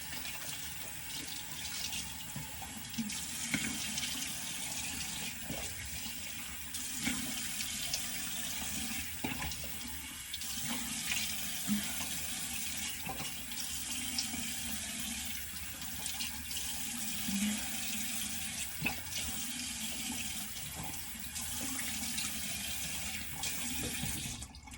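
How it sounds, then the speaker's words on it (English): Water runs steadily from a sink tap while a face is rinsed during a morning skin routine, a continuous splashing hiss with small irregular splashes and no talking. "Rinsing it off again."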